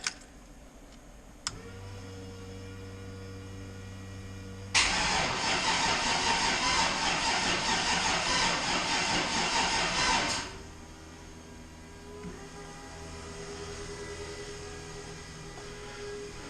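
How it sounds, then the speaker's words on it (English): Fuel pumps on an LS 5.3 swapped Fox Mustang whine steadily with tonal hums as the engine is cranked, a loud burst of cranking or rough running lasting about six seconds, then the pump whine continuing alone. "Those pumps are just singing, and we got barely any fuel pressure."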